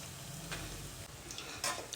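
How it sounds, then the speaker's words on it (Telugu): Food fries in hot oil in a kadai, a close, steady sizzle with crackling bursts and a stirring scrape partway through. "ఇట్లా మంచిగా వేయించుకోవాలి"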